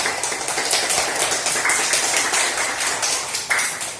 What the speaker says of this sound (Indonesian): Tepuk tangan untuk kesimpulan